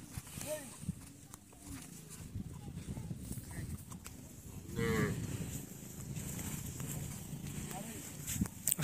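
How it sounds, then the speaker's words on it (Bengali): Many cattle on a Padma river sandbank near the India–Bangladesh border, with several low moos rising over a busy outdoor murmur, hoofbeats and people talking nearby. "অসংখ্য গরু।"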